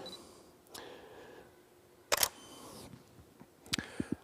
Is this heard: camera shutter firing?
yes